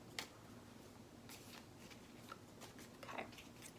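Tarot cards being shuffled by hand, producing several soft, papery riffles and flicks spread across a quiet room, fairly close and faint, with no talking.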